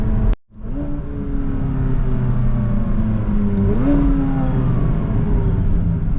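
A McLaren's engine revs hard through the gears in manual sport mode with the rear window down, a loud, steady close-up roar whose pitch climbs, drops at each gear change and climbs again.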